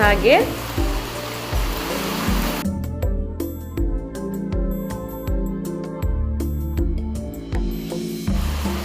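Carrots fry in a pan as turmeric powder goes in, a loud close sizzle with stirring clatter and scraping knocks, busy and continuous throughout.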